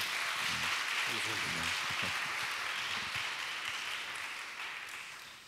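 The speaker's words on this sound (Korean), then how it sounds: "우리가 좀 격려의 박수를 다시 한번 보내드리면 어떨까요?" Audience applause at a Korean worship talk concert: a dense, steady wash of clapping from a crowd that holds strong for several seconds, then slowly fades, with faint voices underneath at the start.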